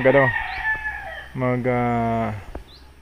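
Four-month-old free-range chickens cluck close by while a rooster gives two loud, drawn-out crows, one after the other, with nobody talking.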